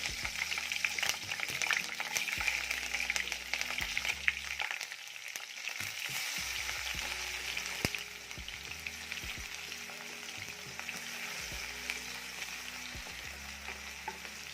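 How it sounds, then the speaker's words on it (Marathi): Green chilli and garlic sizzle and crackle steadily in hot oil for a Marathi-style safflower greens dish, a dense close frying hiss with occasional stirring knocks throughout. "तर तेल देखील आपलं छान तापलेलं आहे तेलामध्ये आपण टाकूया मिरची"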